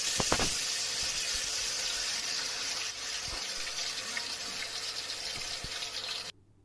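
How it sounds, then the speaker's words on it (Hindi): Ghewar batter poured into hot ghee, giving a loud, dense, steady hiss and crackle heard up close, with a few faint knocks underneath, before it cuts off abruptly near the end. "बैटर को घी में डालने के बाद इस तरीके से आवाज़ आती है चट चट की"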